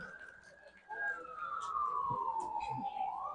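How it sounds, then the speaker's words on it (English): A siren wails in the distance at a high school football game, its pitch sliding slowly downward over a constant low rumble, with faint background noise throughout. "Hear the siren."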